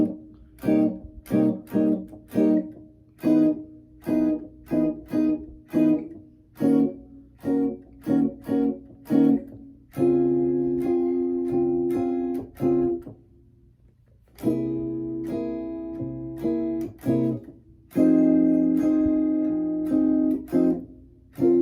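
Electric guitar plays the verse section of a song, first in short plucked chords and single notes, then in longer ringing chords with brief pauses, clear and close with no talking.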